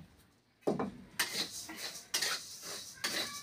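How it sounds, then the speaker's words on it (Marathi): Coriander seeds roasting in a metal pan on a home stove, with repeated clattering scrapes and clinks as a spatula stirs them, several bursts in quick succession, close and fairly loud with no talking. "आता धने भाजायचे. हे आपले धने इथं नॉर्मल भाजायचे धने."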